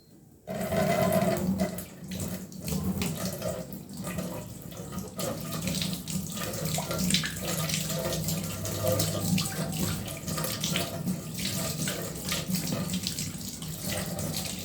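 Tap water runs steadily from a kitchen faucet into a sink while a cooking spoon is rinsed off, a close, continuous splashing stream lasting the whole stretch with no talking.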